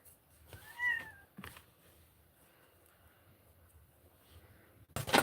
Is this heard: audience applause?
no